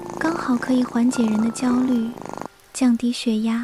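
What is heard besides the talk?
cat purring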